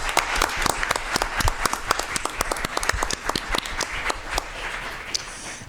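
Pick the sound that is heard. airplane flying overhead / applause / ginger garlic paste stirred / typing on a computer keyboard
applause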